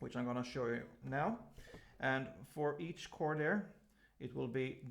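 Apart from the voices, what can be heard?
None of the usual background noises is heard.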